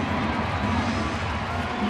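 Steady crowd murmur fills a baseball stadium during an Oakland at Chicago game in June 2009, a continuous broad wash of many voices without distinct cheers, with commentary talk over it.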